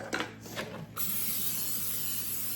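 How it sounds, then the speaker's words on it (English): Olive oil spray spritzed into a bowl for dough: a couple of short hissing bursts near the start, then a steady broadband hiss of spray continuing to the end. "Get some olive oil spray."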